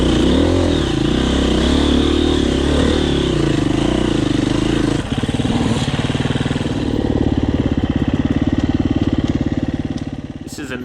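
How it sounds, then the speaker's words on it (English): A Husqvarna TE250 two-stroke hard enduro dirt bike, a 2021 model, rides a trail. Its engine buzzes loud and close with steady revving, then drops to a rougher, choppier note partway through as people talk faintly underneath. "Already in the ride you can see the superior 4-stroke go past the inferior 2-stroke dirt bike."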